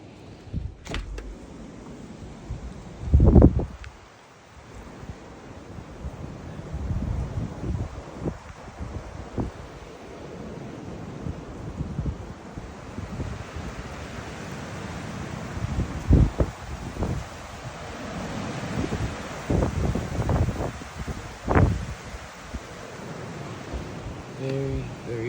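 A strong blizzard wind buffets a remote home, with roaring gusts, rumbling wind noise and sudden thumps and rattles rising and falling throughout, fairly loud and continuous.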